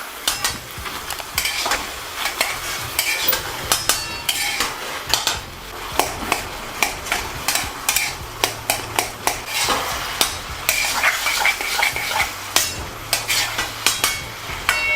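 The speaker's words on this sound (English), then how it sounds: "Just gonna fry it. Just let this cook for a minute before we throw in our tomatoes." Green chilies, ginger and garlic fry in a karahi as a utensil stirs and scrapes against the metal pan, giving repeated close clinks and taps over a steady low sizzle, with no voices.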